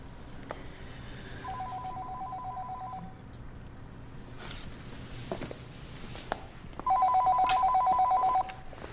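An old-style telephone rings in two bursts of warbling trills, the second louder and closer, in a quiet room with faint movement and thuds between the rings.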